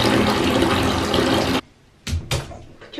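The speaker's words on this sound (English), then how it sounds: "he's getting his bath" Water pours steadily from a tap during a dog's bath, loud broadband rushing for about a second and a half, then stopping, followed by a couple of short splashing bursts.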